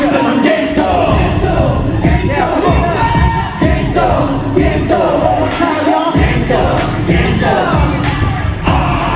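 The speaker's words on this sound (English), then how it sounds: "Finally, I'm hearing a little bit of cheering." A large concert crowd at an anniversary show cheers and shouts continuously, loud and close, a dense wash of voices with no single speaker standing out.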